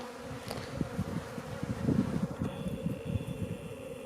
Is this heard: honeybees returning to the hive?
yes